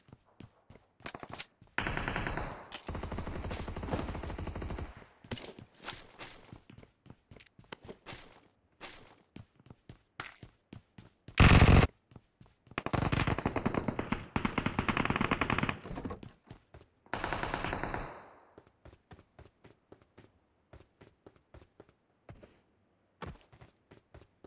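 PUBG Mobile gunfire: repeated sustained automatic bursts of several seconds each, separated by clicks and footstep-like ticks, with a sharp loud burst near the middle and no talk.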